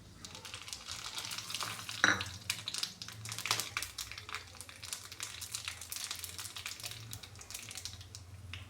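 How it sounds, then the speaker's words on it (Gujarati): Mustard seeds, cumin, cloves, star anise, bay leaf and dried chillies for a Gujarati dal tempering sizzle in hot oil, with soft crackling and popping and a couple of sharper pops and stirring scrapes, close and fairly quiet. "તેલ ગરમ થઈ ગયું છે તો એમાં આપણે થોડી રાઈ નાખી દઈશું"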